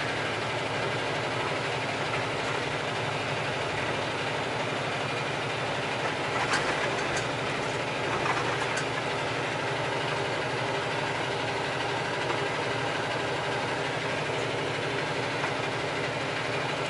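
A truck engine drones steadily after a downshift to ninth gear, with a constant low rumble and road noise heard from the cab and a few faint clicks, and no talking.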